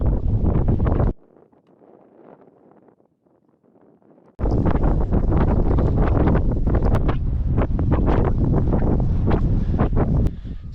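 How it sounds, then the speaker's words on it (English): Strong wind buffets the microphone on an exposed hilltop plateau during a hike, loud roaring gusts broken by a brief quieter lull before the blasting resumes. "Windy now."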